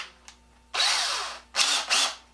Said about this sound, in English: you drill down through and then you just use the drill bit to cut a slot